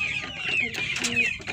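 A Plymouth Heritage rooster gives a short run of close, fairly soft clucks, a few quick throaty notes with no one speaking.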